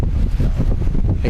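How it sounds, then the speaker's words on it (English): Strong wind buffets a microphone on an island shore, a loud, continuous low rumble with gusty surges and no clear voices. "if you can hear it, it's windy like hell"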